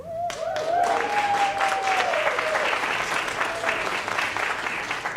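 An audience claps loudly and steadily at the 97th annual candle lighting ceremony. A dense wash of applause lasts throughout, with a bright whistle or cheer rising over it near the start.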